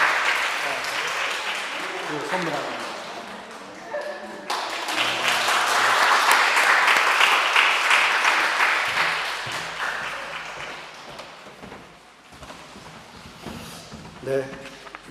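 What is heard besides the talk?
congregation applauding in celebration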